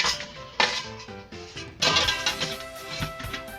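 A lid is set onto a pot of Filipino shrimp sinigang soup, making a couple of close metallic clanks and clinks with ringing tails over a low background.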